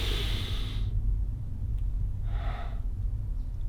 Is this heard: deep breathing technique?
yes